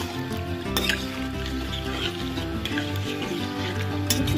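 Spiced potatoes braised in a kadai (wok) sizzle and hiss steadily as water is added, a dense, continuous frying sound close by with a few faint clinks and no speech.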